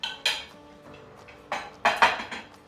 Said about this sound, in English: Now I'm adding this pork roast right back in.